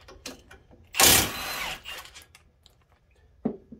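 A large impact gun works on brake hardware during a front rotor and pad job on a Nissan Armada, giving one loud, close, harsh mechanical burst about a second long, followed by lighter clanks and tool handling.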